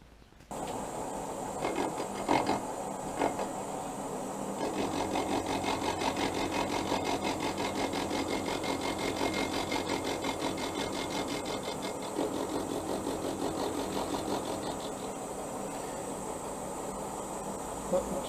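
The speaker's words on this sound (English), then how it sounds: "So I'll run a dovetail cutter along there as well." A dovetail cutter machines the edge of a Goldstar motorcycle crankcase during a repair, giving a steady, buzzing cut that runs continuously at an even level close by for most of the clip.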